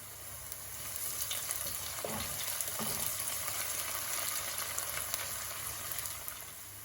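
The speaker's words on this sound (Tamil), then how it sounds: "இப்போ நான் ஒரு 4 சித்தல் மிளகாயும் கொஞ்சம் கறிவேப்பிலையும் சேர்க்கிறேன்." Onions frying with dried red chillies and curry leaves, a steady close sizzle swelling after a quiet start, with a few clinks and scrapes of stirring partway through and no voices.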